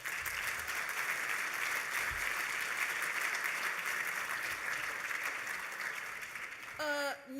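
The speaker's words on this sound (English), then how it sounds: "You can applaud her." A roomful of people applauds a newly introduced director, a full, sustained wash of clapping that fades slightly toward the end before a voice begins speaking.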